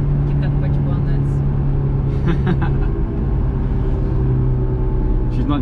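A Honda S2000 engine drones loud and steady as it gears down, a continuous low rumble close by with faint clicks layered over it.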